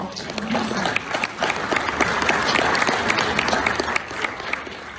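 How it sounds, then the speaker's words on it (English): Audience applause at a cinema industry awards presentation for best cinema refurbishment, a steady dense wash of many hands clapping for about five seconds with crowd noise mixed in. "I want to give you guys a round of applause for everything you do"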